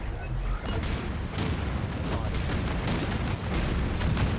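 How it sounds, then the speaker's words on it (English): Nuclear missile strike in the strategy game Anno 2205, a dense, loud barrage of booming blasts and crackling detonations rolling on for several seconds, with faint voices underneath. "Nuclear missile."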